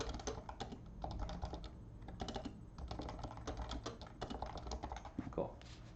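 Rapid typing on a computer keyboard, clattering steadily and close for the whole stretch with brief pauses, while a game plays in the background and there is faint talk.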